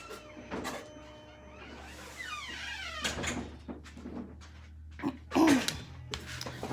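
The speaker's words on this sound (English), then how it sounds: "let me shut this door because I've got the big plotter going" A door is pushed shut in a workroom where a large plotter is running, with a creaking squeak and several knocks and thumps, the loudest near the end, over a low, steady machine hum.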